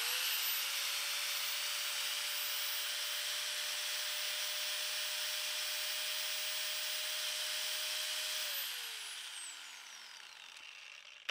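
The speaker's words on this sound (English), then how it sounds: "I've got an angle grinder here that I'm gonna turn on" An angle grinder powered through a 2000 W 12 V pure sine wave inverter runs at a steady high-pitched whine, loud and close, then spins down and fades near the end.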